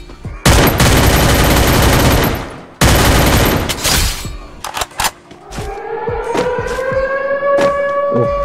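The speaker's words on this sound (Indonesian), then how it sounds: "Wah, ada nembak lagi dari arah belakang guys" Rapid bursts of automatic gunfire from the Free Fire video game, loud and close, followed by scattered single shots and a rising siren-like tone, with no voices.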